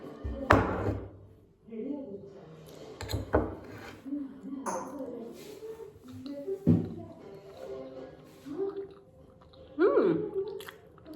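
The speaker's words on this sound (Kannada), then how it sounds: "let's taste my cake" Someone chews and bites into a homemade cake up close, with moist squishy mouth sounds and soft taps recurring every second or two; a voice speaks briefly in places.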